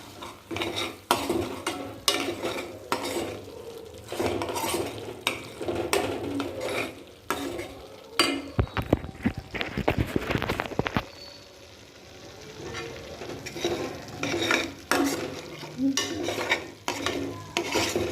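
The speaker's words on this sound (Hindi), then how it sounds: "मिक्स कर लेंगे, हल्दी भी डाल देंगे।" Spices and turmeric being stirred in a pan for achari baingan kadhi, a steady scraping spoon rhythm against metal with soft sizzling underneath, close and alone, with a louder clattering burst midway.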